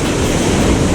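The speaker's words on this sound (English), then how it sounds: "these waves just rolling along for a long way" Sea waves roll steadily onto the shore on a spring evening with a light onshore wind, a loud broad continuous wash of surf with no break.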